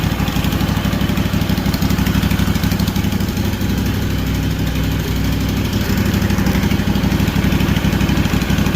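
A freshly installed Kawasaki FR730V V-twin engine in a Cub Cadet SX60 riding mower idles loudly and close, a steady throbbing rumble with an even pulsing rhythm and no talk.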